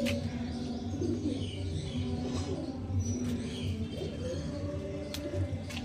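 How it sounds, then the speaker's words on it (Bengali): A flock of around a hundred pigeons kept indoors coos in low overlapping murmurs, with scattered chirps and rustling, steady throughout at moderate loudness. "তা পায়রার পর দেখুন সবগুলো"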